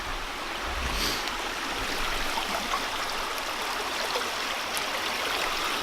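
Water of Trickle Creek flows steadily, a loud, close, continuous rushing babble with no pauses and no voices over it.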